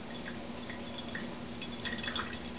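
Hot water trickling and dripping onto coffee grounds in a pour-over brewer, poured in small concentric circles; a faint, steady patter of drips runs through the clip with no talk.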